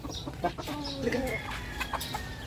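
Pet chickens cluck close by while pecking at fresh young grass, with short clucking calls and a few bursts scattered over a steady outdoor background.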